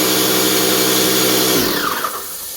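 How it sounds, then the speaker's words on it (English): A mold remediation fogger machine runs loud and steady with a dense motor-and-air roar, then cuts off about a second and a half in and spins down to a quieter hiss. "this is their fogger"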